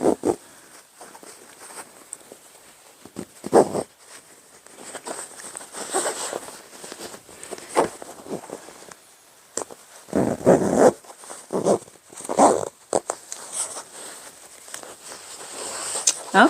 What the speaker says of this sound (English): And now I've got the pillow form inside the cover, and I'll zip it up.